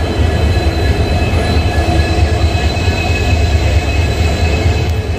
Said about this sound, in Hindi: विरमगम जंक्शन पर आप देख सकते हैं UBL के लोकोमोटिव